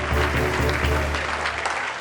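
Crowd applause at a bikutsi music show fills the whole stretch, a dense steady clapping over a low rumble of room noise.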